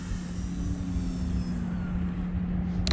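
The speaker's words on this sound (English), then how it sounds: "this thing is a really, really fun plane" A Turbo Timber Evolution RC model airplane on floats drones steadily overhead, its electric motor giving a constant buzzing whine with a slowly falling tone, fairly near and unbroken for the whole stretch.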